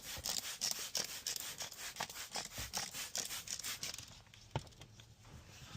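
Rapid back-and-forth scrubbing strokes on the inside of a car windshield during prep for a window tint install, close and fairly steady, with a brief sharper knock near the end and no talking.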